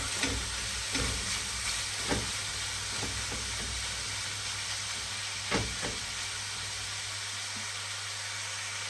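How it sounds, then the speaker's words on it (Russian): Steady sizzling of onions frying in a pan, with a few soft clicks and stirring scrapes, no voices. "Вот пусть обжаривается наш лук."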